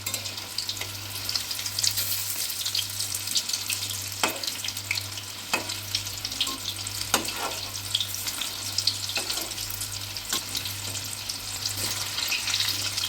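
Chicken pieces for chilli chicken sizzle and crackle steadily in hot oil, a dense continuous fry broken by occasional sharp pops and spatters throughout, fairly close and without any talking.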